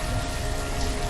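Steady rain in the village-building game Banished, a dense, even hiss of falling drops with no pauses, moderately loud and alone.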